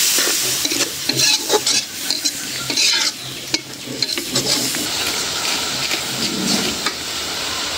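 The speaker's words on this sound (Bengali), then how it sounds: "মশলাটা কষাই নিলাম" Spice paste of turmeric, chilli, coriander and cumin powders stir-fried in a pan, loud close sizzling with busy scraping strokes that come in bursts.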